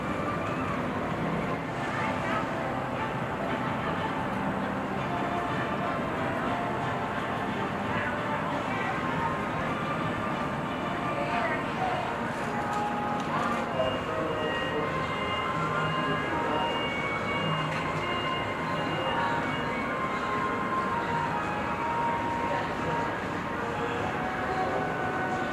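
A roller coaster train on SeaWorld Orlando's Ice Breaker, under construction, rumbles and clatters steadily along its track for a long stretch, with faint voices and crowd murmur in the background.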